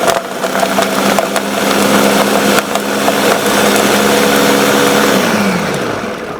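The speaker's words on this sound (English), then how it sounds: "now I'm going to blend it" Blender whirring through a thick acai smoothie bowl mix, a loud continuous close motor drone whose pitch shifts slightly as the contents thicken, with no talking.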